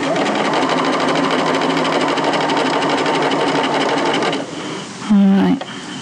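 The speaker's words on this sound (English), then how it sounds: "you sew your armhole. So I'm just joining the facing and the garment armholes together." A sewing machine stitches a facing to garment armholes in a fast, steady, close mechanical chatter that slows and stops near the end, followed by a brief clunk.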